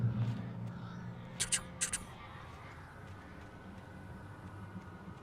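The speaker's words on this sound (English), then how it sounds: "Listen to birds." Crows caw in the video game Alan Wake Remastered, a few sharp calls in quick succession over a low ambient hum, then fading background noise.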